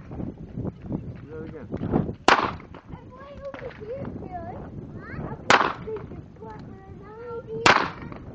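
Ruger Single Six revolver fires three sharp, loud shots spaced a few seconds apart at an outdoor practice session, with people talking between the reports.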